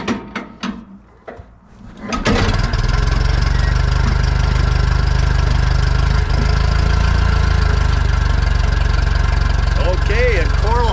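A 1953 Ferguson tractor engine cranks a few times with the choke pulled, catches and settles into a loud, steady idle that runs on and on, close by.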